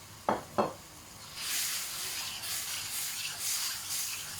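Pork for Thai-style crispy pork, splashed with Shaohsing rice wine, hits a hot pan after two sharp clinks, then hisses and sizzles steadily while it is stirred, loud and close.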